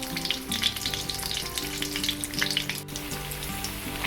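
Slices of Spam frying in a pan, a steady crackling sizzle with bright popping spatters throughout, close and fairly loud, with no voices.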